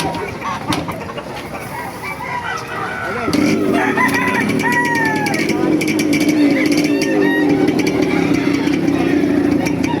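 Gamefowl roosters, mostly red breeds such as Lemon Sweater, crow repeatedly amid clucking chickens, several rising calls overlapping over a steady engine hum with people talking nearby.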